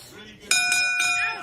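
A boxing match bell rings at the end of the fight, several bright metallic clangs on top of a commentator's voice and crowd noise.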